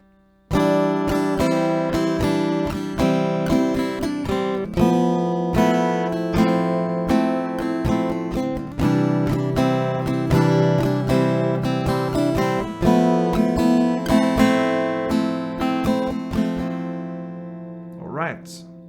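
Strummed acoustic guitar chords ring out steadily and close, with a dense, full sustain and rhythmic strokes, ending with a brief high flourish.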